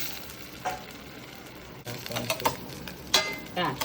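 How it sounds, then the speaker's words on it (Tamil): Ragi (finger millet) roti batter cooks on a hot pan, giving a soft, steady sizzle with a few brief clinks and scrapes near the end; no talk. "இப்போ தோசையை நம்ம ஊற்றிட்டு ராகி ரொட்டி இதுக்கு பேர், அது மூடி வச்சுக்கலாம்."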